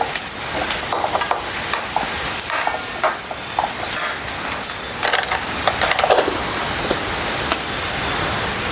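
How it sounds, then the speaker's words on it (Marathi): Green chilli and red chilli powder sizzle and fry in a hot pan, a continuous close hiss with occasional stirring scrapes across the whole stretch. "थोडंसं लाल तिखट घालणार आहे असं छान परतवून घ्यायचं खमंग"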